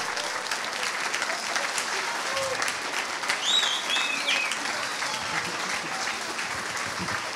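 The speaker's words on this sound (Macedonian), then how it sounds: "Уште еден аплауз за сите вас" Audience applause at a film festival, a sustained, even wash of clapping from a sizable crowd heard from a little distance, with brief higher sounds briefly poking through midway.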